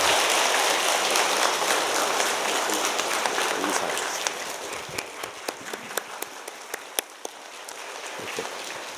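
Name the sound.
church congregation applauding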